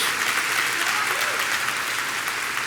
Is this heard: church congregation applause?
yes